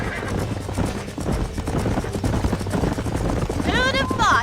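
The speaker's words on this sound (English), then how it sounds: "These are fine horses." Horses in the video game Red Dead Redemption whinny near the end, a bright rising and falling neigh after a stretch of talk, hoofbeats and low game ambience.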